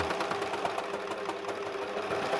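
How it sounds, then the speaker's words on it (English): A Baby Lock Enspire EX sewing machine runs through denim and over a double seam, giving a close, steady mechanical hum with quick rhythmic needle strokes and no voices. "let's sew it down this piece of denim here. And you don't need to do anything. The machine's just going to take it in quite beautifully"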